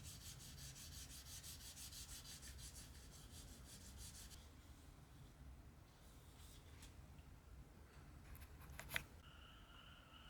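Wet sanding a 1/20 Fujimi Ferrari 641/2 model car body with 2000-grit sandpaper: a steady, close, continuous rubbing scrape that eases off partway, then a few sharper strokes.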